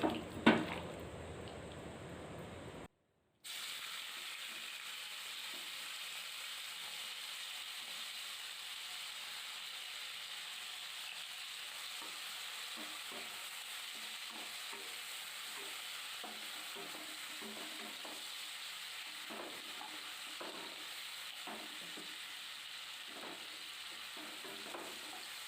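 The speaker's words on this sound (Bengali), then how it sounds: "শুকনো লঙ্কাগুলো ভাজা হয়ে গেছে, এবারে চিংড়িগুলো ভেজে নেব।" Prawns and dried red chillies frying in oil for a Bengali chingri bata, a steady low sizzle and hiss with faint stirring scrapes after a brief cut, and no talk.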